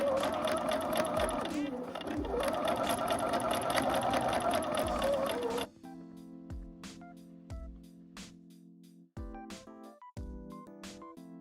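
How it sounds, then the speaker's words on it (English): Domestic sewing machine stitching a side seam pocket on garment fabric, running steadily for about six seconds, then stopping and restarting in short bursts with small pauses; the stitching is near and fairly loud. "We are going to sew the side seam pocket now."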